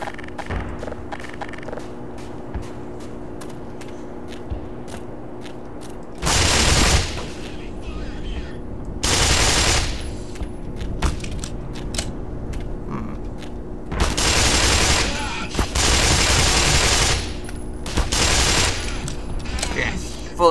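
Enemy gunfire in the Black Mesa shooter game, with bursts of loud, dense shooting in several long volleys separated by quieter stretches of mechanical ambience.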